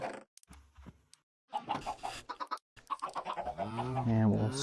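Chickens clucking in the blocky survival game Minecraft VR, with several short bursts of clucks that grow denser and louder toward the end, and faint talk in between.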